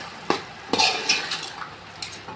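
Chicken pulao ingredients with fresh coconut are stirred and mixed in a large pot. A spoon makes several scraping and clinking strokes in an uneven rhythm over a light sizzle.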